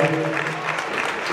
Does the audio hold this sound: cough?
no